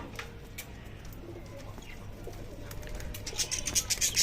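Pigeons kept as pets coo softly while birds are handled, with scattered chirps and a rising flutter of bird calls toward the end over a low background hum.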